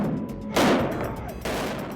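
Enemy small-arms fire during an ambush in Iraq, two sharp loud cracking bursts about a second apart over a noisy rumbling background, recorded close.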